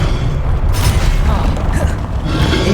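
The Levioso spell cast in Hogwarts Legacy: a loud magical whoosh with rumbling, creaking mechanical textures and a booming swell, dense and close.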